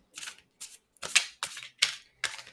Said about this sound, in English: I'm going to shuffle that.